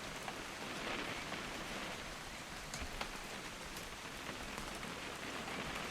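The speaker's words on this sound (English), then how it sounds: "It's gonna rain the whole weekend" Steady rain from the video game What Remains of Edith Finch, a dense, even hiss of drops pattering on surfaces, continuous and fairly close throughout with only scattered brighter drips and no voices.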